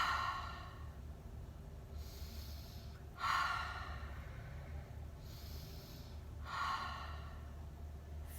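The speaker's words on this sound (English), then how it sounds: "In through the nose, out through the mouth." Slow, soft breaths drawn in through the nose and pushed out through the mouth in a quiet home setting, three airy exhalations spaced a few seconds apart over a low steady hum.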